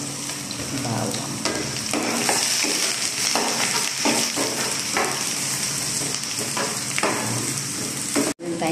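Onion and garlic sauté in a hot pan for a lunch dish, giving a steady, fairly loud sizzle with repeated scraping stir strokes throughout.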